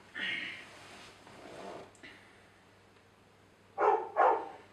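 A dog barks twice in quick succession, loud and close, after a stretch of quieter talk and soft yips in an indoor podcast setting.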